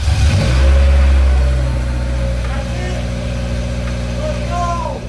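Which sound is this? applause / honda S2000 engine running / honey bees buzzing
honda S2000 engine running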